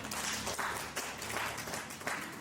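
A conference audience at an investment and market research session on Lao PDR gives a presenter a round of applause: faint, even clapping from a room-sized crowd, heard alone without speech.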